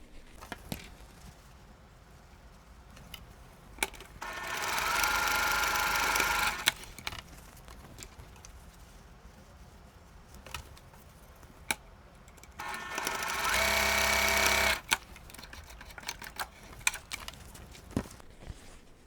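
A sewing machine stitches rows of a Christmas star quilt block together in two steady whirring runs of a few seconds each, close by, with soft clicks and fabric handling in the quieter gaps.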